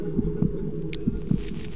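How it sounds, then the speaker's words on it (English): Heartbeat sound effect from the horror video game The House 2: a low, muffled double thump repeating twice in a steady lub-dub rhythm over a dull game ambience, with no talking. "I hate that heartbeat noise"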